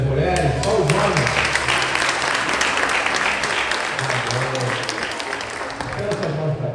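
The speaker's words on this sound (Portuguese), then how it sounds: "vamos dar um forte aplauso a Deus pela vida das mulheres, só os homens." Church congregation at a Baptist Sunday service giving a strong round of applause, dense clapping throughout with music and a voice underneath.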